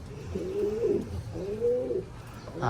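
A young homing pigeon, apparently a hen, coos nearby in a breeder's loft, giving two soft, throaty rolling coos in a row, alone and fairly clear.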